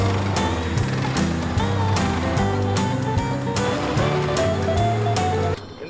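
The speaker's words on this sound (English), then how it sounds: "we're about to mow the grass" A lawn mower runs steadily and loudly nearby while mowing grass on a farm, a continuous droning engine that holds for several seconds before cutting off abruptly at the end.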